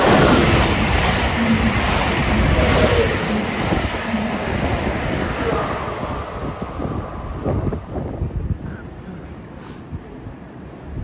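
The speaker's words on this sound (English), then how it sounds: "The approaching train will not stop here." A train runs through a railway station without stopping, making a loud, broad, rushing roar that dominates at first and then gradually fades as it passes.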